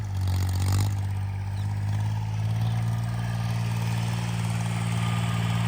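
A homemade 26 hp tractor engine idles at low revs with a deep, steady, throbbing rumble. A brief clatter comes early, then the low chug runs on evenly, close by.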